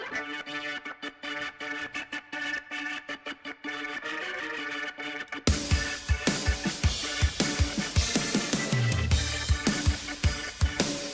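Gritty, thick attack organ part from a metal band's song, heard alone at first, then joined by heavier full-band accompaniment with punchy low hits halfway through; no talking.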